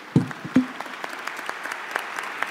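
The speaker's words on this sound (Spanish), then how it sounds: "les pido un cálido aplauso para nuestros ponentes" Audience at a climate change mitigation conference applauds the speakers, a sparse and fairly light patter of scattered claps after a couple of louder close hits, thinning out quickly.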